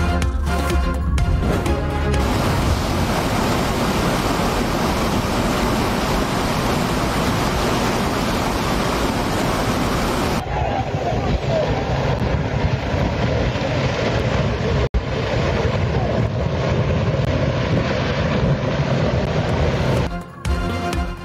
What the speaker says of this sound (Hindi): लाहौर के मुख्तलिफ इलाकों में तेज़ हवाओं के साथ मूसलाधार बारिश।